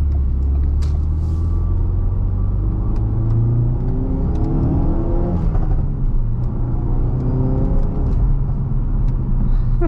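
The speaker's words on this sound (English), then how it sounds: "You can even hear like a little like whistling noise." A Ford Focus RS engine hums and rises steadily as it accelerates, with a faint high whistle riding over the steady rumble.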